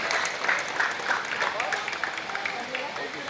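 A crowd claps at a cricket premier league prize ceremony in Bandongari, brief moderate applause with a voice over a loudspeaker talking on top.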